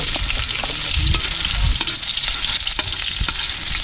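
Garlic and onion frying in a pan while being stirred, a steady loud sizzle with scraping strokes of a utensil repeating through the whole stretch, no voices.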